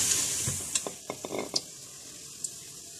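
Onions fry gently in oil for a mutton stew, a soft, steady sizzle with scattered sharp pops and crackles, quiet and close up.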